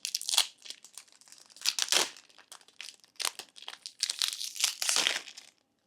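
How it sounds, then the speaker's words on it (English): Crinkly plastic wrapping of a trading card booster pack crackles and tears in short close bursts, quiet and without talk, ending in silence. "So we're just going to get this opened up, and yet again, we're going to see what cards we get."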